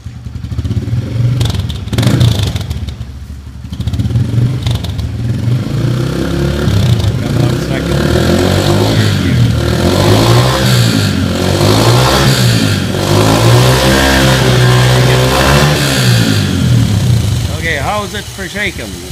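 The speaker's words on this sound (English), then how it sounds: "what was your top speed on the bike there, Daniel?" A motorcycle engine drives a Canso aircraft wheel to spin it up for a shimmy test: a loud, steady engine drone that rises and falls in pitch with revving over about twenty seconds, with voices talking over it.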